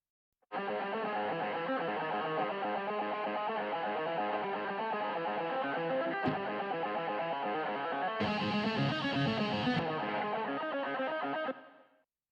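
A distorted electric guitar plays a sustained riff through a heavily processed Toneforge amp simulator plugin tone, starting abruptly and cutting off, with a brighter, harsher stretch near the end.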